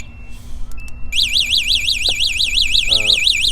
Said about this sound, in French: Et il y a aussi une alarme qui est livrée avec.